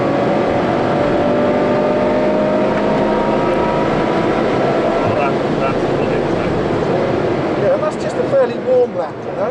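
Ferrari 812 Superfast V12 pulling hard in fourth gear, a loud sustained engine roar with rising harmonics across the whole stretch, while people talk over it inside the cabin.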